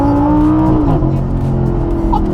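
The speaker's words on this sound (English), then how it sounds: "you slap the gas, and it does a clutch dump" Lamborghini LP570 Superleggera launching hard in Corsa mode with a clutch dump, a loud engine roar climbing in pitch as it pulls away, with a brief tire chirp, close and continuous.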